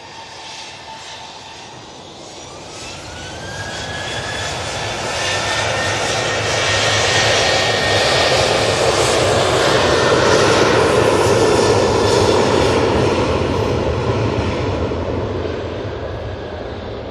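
Emirates airliner jet engines at Manchester Airport, a loud, sustained roar that swells over several seconds, holds steady at its peak, then begins to ease, with no talk over it.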